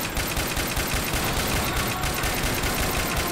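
An M60 machine gun in Left 4 Dead 2 fires in a rapid, unbroken burst, loud and close, with the rounds hammering steadily throughout.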